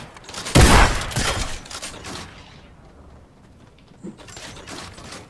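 Fortnite shotgun and SMG fire in an aim-training map, a loud close burst of shots followed by scattered quieter pops and clatter that fade, then a few more faint shots.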